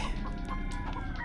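A chicken clucks in the Ratchet and Clank video game, a quick run of short, close clucks with no talk.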